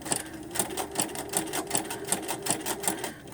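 A sewing machine runs a three-step zigzag stitch across fabric backed with wadding, joining two pieces, with a steady, fast needle rhythm of evenly spaced clicks close by and no talking.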